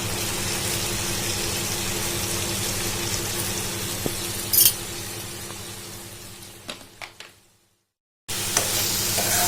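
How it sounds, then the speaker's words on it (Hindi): Steady sizzling of boiled potatoes frying in prawn masala in a pan, with a few clinks of a spoon stirring, then a brief silence before the sizzle resumes loudly. "आलू को मसाले के साथ अच्छे से मिक्स कर देते हैं"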